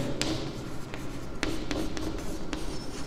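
A pen writes on paper during a math lesson on linear equations, giving close, scratchy strokes with several sharp taps and short scrapes at an uneven pace.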